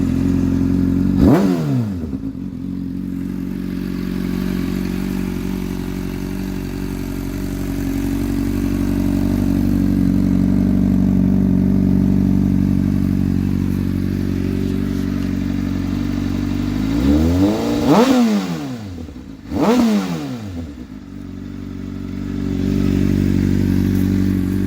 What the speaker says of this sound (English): I'll start it up. We'll get a sound bite of that Two Bros exhaust.